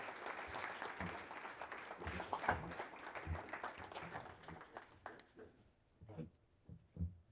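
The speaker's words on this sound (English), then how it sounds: "Please give him a round of applause." An audience at a theology conference claps for a speaker coming up, a faint, distant patter that thins out and fades into scattered claps and room noise.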